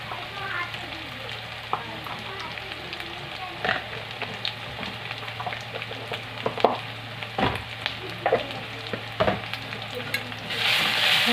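Goat meat frying with turmeric powder for a kosha curry, stirred in the pan: steady close sizzle with intermittent scraping and clinking strokes throughout, brief louder hiss near the end.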